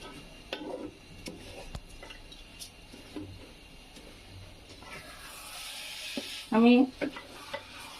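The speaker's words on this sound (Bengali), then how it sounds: "ডাল চাল একসাথে আমি কষিয়ে নিব" Lentils and rice are stir-fried with spices in a pan for Bengali khichuri, with a soft, low sizzle broken by scraping stirs and a few sharp clinks near the end; a voice briefly speaks.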